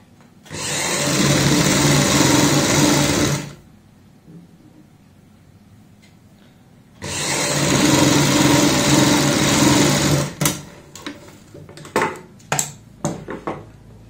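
A sewing machine stitches pintucks on a garment neckline, whirring loudly and steadily in two runs of about three seconds with a quiet pause between, followed by several sharp clicks and taps close by.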